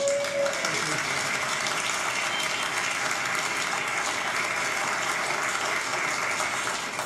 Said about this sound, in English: With applause.